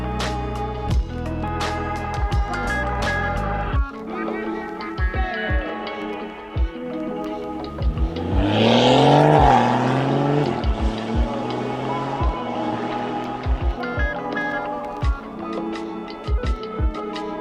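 A BMW M140i with a 3-litre B58 straight-six engine revs repeatedly, its engine note climbing and falling in loud, sustained pulls, with a strongest rising sweep around the middle.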